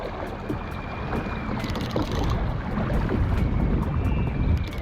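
Strong wind buffets a small fishing boat trolling for walleye at night on Green Bay, a steady roaring rush with low rumble from water and hull, loud and continuous throughout.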